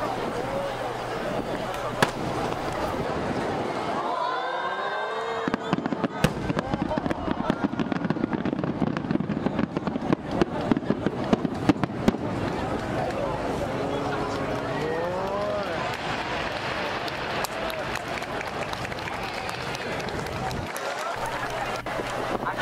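Star Mine fireworks at the Kisarazu port festival crackle and boom in rapid volleys, heard from within a dense crowd whose voices murmur throughout.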